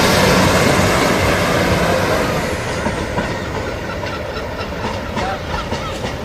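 A Class 156 Greater Anglia diesel train departs Ipswich station with a loud engine roar and rumbling wheels that fade gradually as it pulls away, leaving hissing and clattering.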